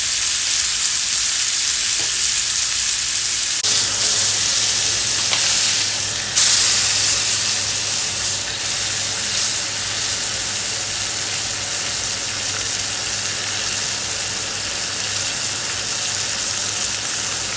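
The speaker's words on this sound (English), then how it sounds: "We're going to flip it over and allow it to sear on the other side as well." Pork tenderloin sears in a hot pan, a loud continuous sizzle and hiss that jumps briefly when the meat is turned, then settles back into a steady, even roar with no talk.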